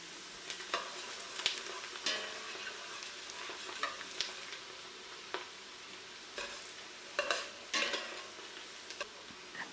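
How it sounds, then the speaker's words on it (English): Onions and ground crayfish fry in palm oil in a pot for a gizdodo dish, a steady close sizzle broken by repeated stirring scrapes and clinks. "continue frying the onions and the crayfish till the bubbles reduce"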